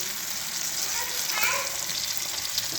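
A beaten egg mixed with green coriander fries on a hot tava griddle, giving a steady, close hiss and crackle of sizzling throughout.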